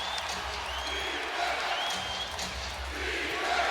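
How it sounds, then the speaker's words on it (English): Basketball arena crowd during a Knicks versus Cavaliers playoff game, a steady roar of cheering and applause filling the building after the game is tied, continuous and fairly loud with no distinct voices on top. "Crowd back into it."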